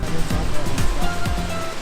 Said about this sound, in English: Waterfall is just on our right side.